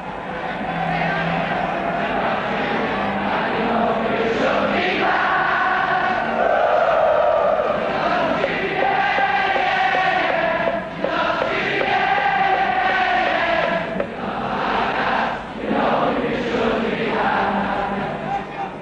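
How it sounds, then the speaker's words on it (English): Liverpool football supporters on the Kop at Anfield roar and chant together, a dense, loud, sustained crowd sound with rising and falling sung tones and no pause. "they don't behave like any other football crowd, especially not at one end of Anfield Ground on the Kop"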